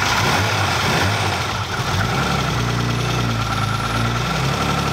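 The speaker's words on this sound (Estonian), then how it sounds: "Käivite mulle." A turbocharged BMW E36 engine idles steadily and loudly up close, a constant low rumble with a slightly rough, uneven hum throughout, no voices over it.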